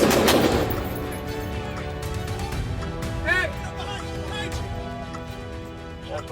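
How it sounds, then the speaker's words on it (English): Police open fire with a pistol and a rifle, sharp gunshot cracks heard under shouting, with a loud burst at the start and further reports amid radio noise and voices. "forcing the police to respond with gunfire using a pistol and a rifle"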